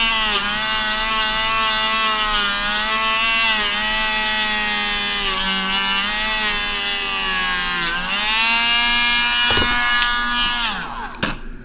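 A Dremel rotary tool polishing the cylinder of a Walther CCP pistol gives a steady high-pitched whine close by. The pitch dips and wavers as the bit presses against the metal, with a few clicks near the end.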